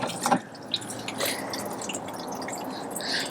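Rainwater drips into a 2.5-gallon container, with a few soft, scattered plinks and splashes over a faint watery background, close and fairly quiet.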